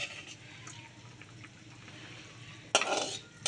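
Whole fish dropped into a simmering radish curry pot, a low steady bubbling under the lid, then a sudden loud splash and burst of sizzling near the end as the fish go in.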